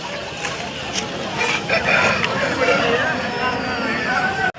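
A rooster crows repeatedly amid a noisy crowd, with clucking fowl and a steady babble of voices all around.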